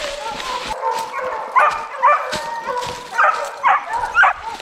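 Hunting dogs bark and yelp excitedly at a bear in the woods, several sharp barks and whines coming in bursts at moderate distance.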